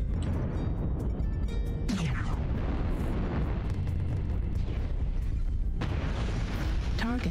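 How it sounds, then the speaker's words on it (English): Artillery strike explosions in the game MechWarrior Online boom and rumble continuously beneath a dense battle din, with heavy low blasts throughout and voices talking over them. "Artillery strike activated."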